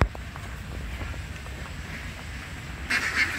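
Ducks quack at a farm, a few calls at moderate distance over steady wind and background noise, with a louder burst of calls toward the end.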